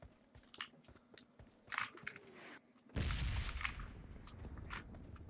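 Red zone bombardment in PUBG: a sudden dense burst of loud, rumbling explosions starts partway through and keeps pounding without pause, following a quieter stretch of scattered clicks and thuds.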